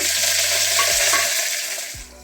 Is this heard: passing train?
no